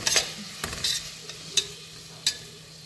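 Tomatoes and masala frying in a pan for Kerala-style beef biryani, a soft continuous sizzle with a few sharp spoon-stirring scrapes and clinks, close and fairly quiet, no talking.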